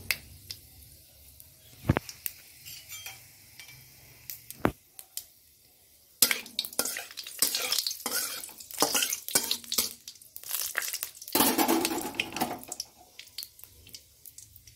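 Bathua leafy greens tossed into hot oil with five-spice and dried red chillies, at first a few isolated sharp clacks, then an abrupt burst of loud crackling, spitting sizzle that continues unevenly and flares again near the end.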